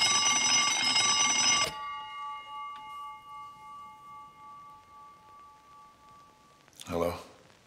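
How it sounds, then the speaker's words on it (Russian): A phone rings in the Cube Escape Paradox video game, one loud sustained electronic ring that cuts off abruptly and leaves a fading tone, later followed by a short burst of another sound. "мистер Ворон нам звонит"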